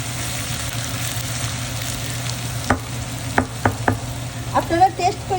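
Bitter gourd and potato bhaji frying in a pan, with a steady close sizzle throughout and a few sharp scrapes and clacks of the stirring utensil against the pan near the end.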